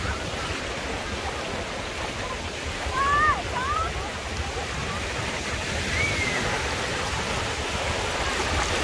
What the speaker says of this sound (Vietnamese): sóng là nó như thế này rồi